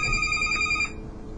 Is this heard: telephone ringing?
yes